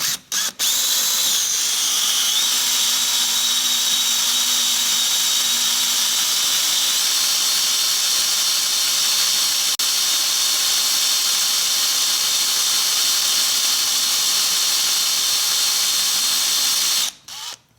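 A power drill drilling out a broken bolt runs continuously at high speed for most of the clip, a steady whining grind with faint squealing, stopping abruptly near the end.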